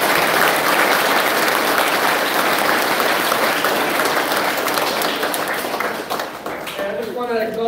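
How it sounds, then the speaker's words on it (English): Sustained, loud clapping from a crowd at a primary school prizegiving, thick and even at first, then tapering off as someone starts speaking over the last moments. "We are going to give them a big round of applause,"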